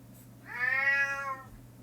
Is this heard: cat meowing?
yes